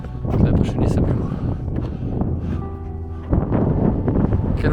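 Strong wind buffets the microphone on a mountain top, a loud, continuous roaring rumble that rises and falls.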